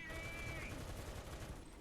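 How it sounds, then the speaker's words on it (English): The machine gun on an M2A4 tank fires in a War Thunder arcade tank battle: a steady, unbroken rattle of rapid shots that is dense but fairly quiet and continues through the whole stretch. "there's my machine gun"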